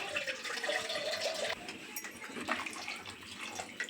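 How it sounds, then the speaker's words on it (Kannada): Water poured into masala sambar in a pressure cooker, a soft steady liquid pour and splash, close and fairly quiet, running for a few seconds without talk. "ನಿಮಗೆ ಸಾಂಬಾರು ಎಷ್ಟು ಗಟ್ಟಿ ಬೇಕೋ ಅಷ್ಟು ನೀರು ಹಾಕೊಳ್ಳಿ."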